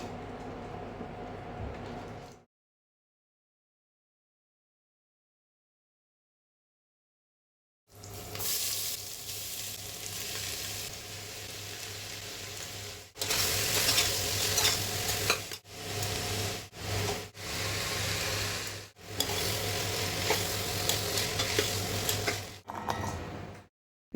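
Spices with coriander and turmeric fry and get stirred in a pan, a steady loud sizzle broken by a long silent gap and several brief dropouts, with scraping stirs close by.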